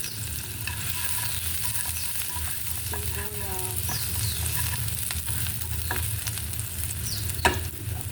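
Onions sizzle steadily in a frying pan while being stirred, a constant close crackle with occasional scraping strokes and a brief clack near the end, no talking.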